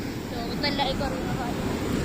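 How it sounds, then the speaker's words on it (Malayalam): Big ocean waves surge and wash in a steady broadband roar, with wind buffeting the microphone and no voices present. "അവിടൊക്കെ ഭയങ്കര തിരമാലയാണ്"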